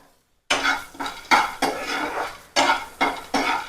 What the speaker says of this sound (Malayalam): ഞാൻ നമ്മുടെ കപ്പലണ്ടി നല്ല തോലി കളഞ്ഞ നല്ല അടിപൊളി കപ്പലണ്ടി ഒന്ന് എടുത്ത് വറുക്കണം